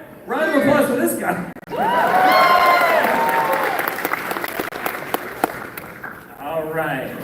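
Audience applause fills a convention panel at a Sonic celebration, loud sustained clapping with some cheering and shouts from the crowd, fading briefly then swelling again, with a few spoken voices mixed in near the end.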